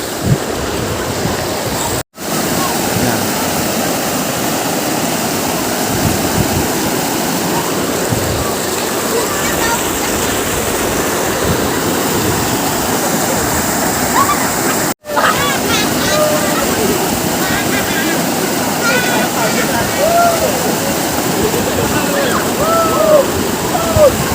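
Rushing river water flows steadily and loudly in Tabaco, Albay, near Mayon Volcano, a dense continuous wash of splashing that cuts out for two brief instants.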